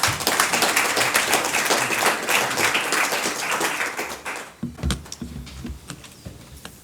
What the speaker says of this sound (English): So please give him a round of applause, ladies and gentlemen.